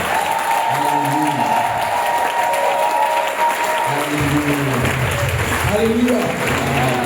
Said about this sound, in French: Acclame le Seigneur Jésus